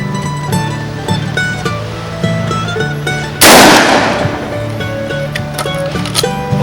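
A single loud, close blast from a Derya MK10 shotgun fired at a human-shaped target at 10 metres, standing out midway through steady, tonal background beeping and hum.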